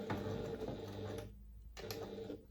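A sewing machine sews a short back stitch on a fabric pouch, giving a soft quiet whir with light ticking, a brief pause, then another short burst of stitching.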